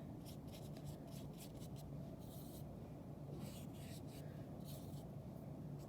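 A sharp coloured pencil outlines a drawn map in quick, soft scratching strokes that come in short bursts. The sound is close and faint, and talk can be heard in the background.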